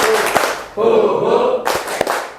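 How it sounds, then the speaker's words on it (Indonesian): Students in a classroom perform a rhythmic ice-breaker clap: a few crisp claps, then a chanted group shout, then another burst of clapping. The claps sound close and loud. "Tepuk semangat."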